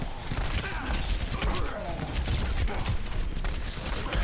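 Rapid shotgun fire from several Reapers in Overwatch forms a dense, continuous clatter of blasts under a lively game mix, steady and near throughout, with talking woven in.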